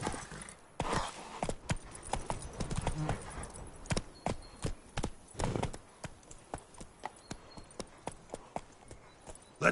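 Hooves of the horse Roach clip-clop at a gallop in The Witcher video game, a steady close rhythm of hoofbeats with a brief whinny and light jingling tack, no talk.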